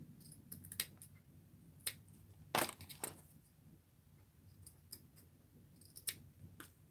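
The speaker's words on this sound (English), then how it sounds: "I'm going to trim up this, get me a nice clean edge" Sharp scissor snips trimming material to a clean edge, a scattered series of crisp close cuts with brief pauses, fairly quiet and without talk.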